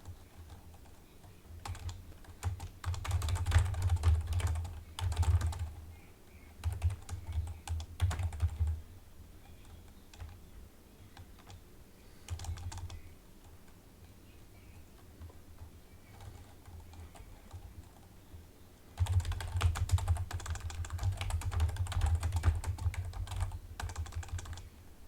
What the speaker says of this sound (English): Sorry, I'm just typing right now.